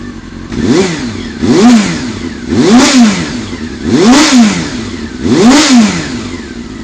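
Honda CBR400 NC29 inline-four motorcycle engine revved five times in a steady rhythm, each blip rising and falling back to idle, loud and close, with no talking.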